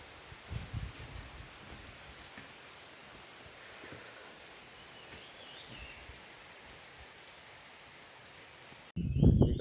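Light rain falls steadily near the Kurli Dam backwater in Konkan, a soft, even hiss of drops on surfaces and leaves, ending in a sudden louder rumble of handling noise.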